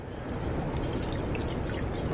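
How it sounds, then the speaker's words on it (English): Water is poured into the open cap of a fire department pump to prime it, a steady, close splashing gush with a faint trickle running throughout. "you take some water, and you go ahead and prime it up"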